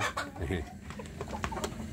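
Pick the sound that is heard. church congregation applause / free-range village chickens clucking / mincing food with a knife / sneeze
free-range village chickens clucking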